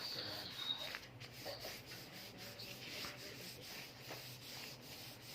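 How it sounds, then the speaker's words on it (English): A classroom blackboard being wiped clean gives a quiet, repeated rubbing and swishing in a steady back-and-forth rhythm, heard alone at low level. "shall I rub the board"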